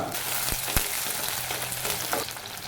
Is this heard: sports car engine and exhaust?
no